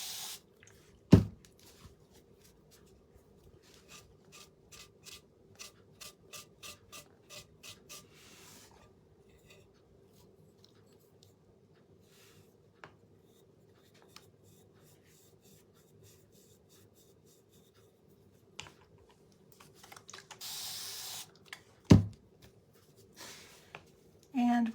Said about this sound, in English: I'm going to take my wet wipe and I'm going to wipe against that grain